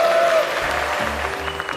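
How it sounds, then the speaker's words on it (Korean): A studio audience on a Korean TV cooking show applauds for three soldiers and their mothers, a brief, even wash of clapping under background music tones. "우리 세 명의 장병과 세 분의 어머니에게 뜨거운 박수"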